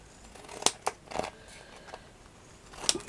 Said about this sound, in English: what I'm going to do now is just to cut it around the edge